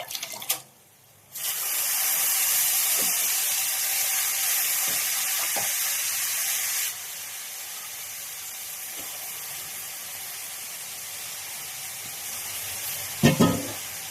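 Mint and coriander leaves, with curry leaves, frying in oil for meal maker biryani, a loud steady sizzle that drops to a quieter hiss partway through, with a few faint utensil taps.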